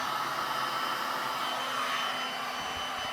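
A heat gun blows over a liquid resin pour on a galvanized metal sign, a loud steady whooshing roar that holds constant for a few seconds.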